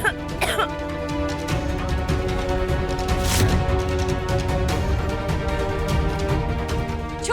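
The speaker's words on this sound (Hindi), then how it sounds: "वो मालकिन को खांसी आ रही है।" A woman, the mistress of the house in a Hindi TV drama, gives a couple of coughs over continuous loud background music, one near the start and another around the middle.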